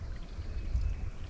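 Calm, clear creek water trickling at the foot of a bank below a county road, a soft steady low wash that stays even and close with no voices.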